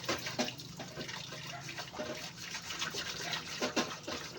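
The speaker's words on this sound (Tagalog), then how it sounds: "kuskusin po natin ng steel wool" A small frying pan is scrubbed with steel wool in a kitchen sink, giving a steady, close, gritty rasping with faint watery splashes and no talking.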